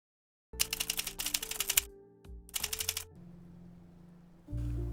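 Rapid, close typewriter-like key clatter comes in two bursts, a longer run and then a short one, while a script is written at home. A low hum trails off into quiet.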